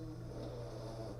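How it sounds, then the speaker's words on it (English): A dog snores softly in the background, a faint, steady low rumble with a droning buzz and no talking. "That's a dog snoring, by the way."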